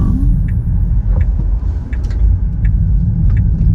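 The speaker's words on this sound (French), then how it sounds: "je vais me rabattre et je vais accélérer un peu" Tesla Model 3 Performance driving on a race track, a steady loud low road and motor rumble with tyre noise filling the whole stretch, no voices.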